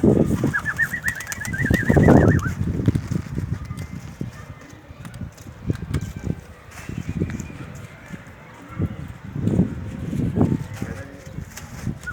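Adana native pigeons, young birds just landed from flight: repeated soft coos and wing flutters near and far, with a voice talking intermittently throughout.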